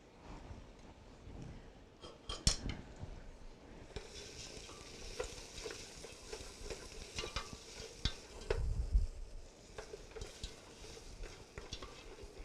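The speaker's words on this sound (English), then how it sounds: "So we're going to simmer this combination of ginger and leeks until it's soft." Ginger and leeks cooking in a pan on medium-low heat, a soft steady sizzle under repeated stirring and scraping strokes, with an occasional sharper utensil knock against the pan.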